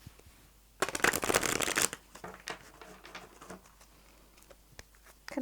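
Tarot cards are shuffled close up in a quick riffling burst, followed by softer scattered taps and slides as a card is drawn, quiet and without talk.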